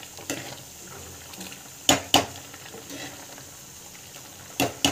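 A utensil stirs tamarind curry (puli kuzhambu) simmering in a pot, with a few sharp metallic clinks against the rim over a low, steady bubbling background.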